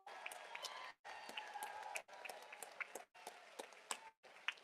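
A rally crowd at a voting rights event claps and cheers in steady bursts, with sharp hand claps and whoops. The sound cuts out briefly several times between the bursts, and voices are heard faintly underneath.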